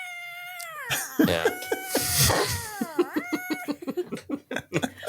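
Mating cats scream and yowl in long, wavering, rising-and-falling cries, followed by choppy, broken squalls; a person briefly speaks once.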